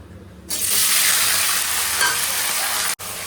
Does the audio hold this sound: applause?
no